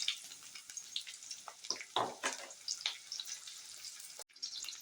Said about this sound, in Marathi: तूप आता तापल्यावर या 2 मिरच्या एकदम बारीक बारीक चिरलेल्या आहेत त्या घालायच्या आहेत